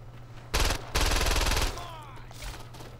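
Loud bursts of rapid automatic gunfire in the video game Saints Row 2, two sustained volleys back to back, followed by fainter game sounds.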